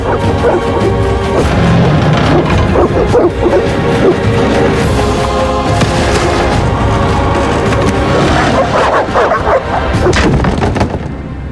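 Dogs in The Witcher video game bark and attack amid loud crashes and heavy thuds, a dense, chaotic, close-up clamour with game voices shouting over it.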